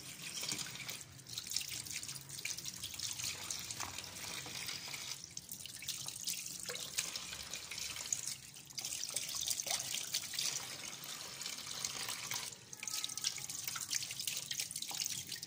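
Water drips and trickles steadily from rinsed fish set in a basket, a soft continuous splashing close by with brief pauses.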